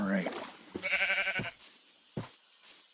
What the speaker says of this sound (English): Oh, are those sheep over there? Those are sheep over there.